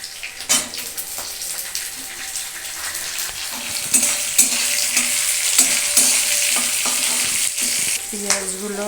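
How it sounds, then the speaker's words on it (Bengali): Chopped onions fry with dried red chillies in hot oil for chilli chicken, a loud steady sizzle broken by repeated spatula scrapes and clinks, with no one talking. "তারপরে দিয়ে দিলাম পেঁয়াজ কুচিগুলো।"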